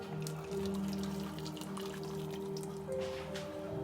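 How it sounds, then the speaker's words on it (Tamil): Hot water pours into a cooking pot set on the stove for boiling potatoes, a quiet trickling, dripping flow with a rising tonal ring as the vessel fills, faint and close. "குயிக்காக சமைக்கிறதுக்காக சுடு தண்ணி விடுறோம்."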